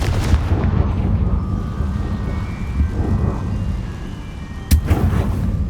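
A Confringo blasting spell explodes in Hogwarts Legacy with heavy, booming rumbles throughout, a sharp loud blast near the end, and no talk.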